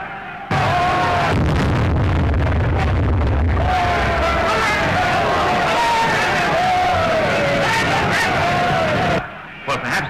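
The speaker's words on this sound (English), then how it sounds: "The crowd outside are in a terrible state of excitement." An excited crowd gathered outside a building in a 1931 film scene, a loud roaring babble of many voices swelling and shouting for several seconds with bursts and pops, then cutting off abruptly near the end.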